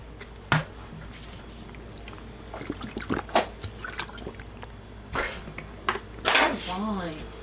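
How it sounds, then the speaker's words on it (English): Someone drinking water in small gulps, wet chugging and swallowing sounds with drips and faint trickles, close and quiet, scattered irregularly over a soft background hiss. "every time I take a drink of water because it makes chuggy noises"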